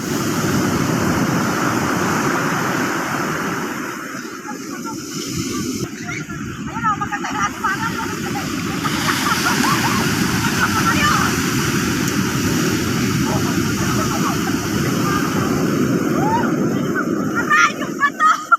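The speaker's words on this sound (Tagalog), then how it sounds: "Sobrang lakas nga ng alon" Loud, rough surf roars continuously nearby, with wind buffeting the microphone and faint voices in the background.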